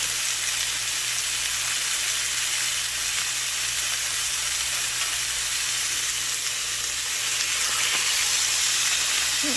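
Chicken sears in a hot pan, a loud, dense, continuous close-up sizzle and hiss that holds steady throughout with no voices.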